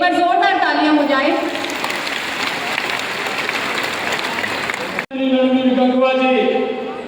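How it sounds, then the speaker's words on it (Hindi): Loud, sustained audience applause fills a public event hall at a women's welfare scheme launch in Panchkula, with a voice speaking over it at the start and end and a brief cut near the end. "एक बार जोरदार तालियां हो जाए।"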